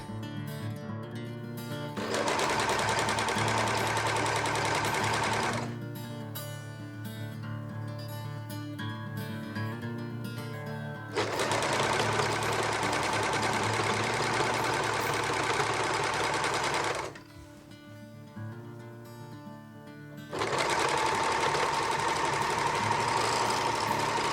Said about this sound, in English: Once they're finally pinned in correctly, I overlock all 4 sides of the skirt.